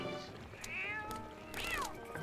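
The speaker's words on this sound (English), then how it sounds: "There's a cat carrying a fish." A pixelated cat in the video game Zelda: Twilight Princess, seen carrying a fish, gives two short rising-and-falling meows over faint background game music.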